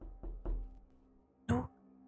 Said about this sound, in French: Ensuite on l'a entendu. Un toc toc toc.